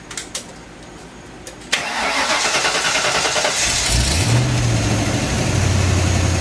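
A few faint clicks, then a 1995 Ford Mustang engine cranks and catches, settling into a loud steady idle with a low rumble; no voices.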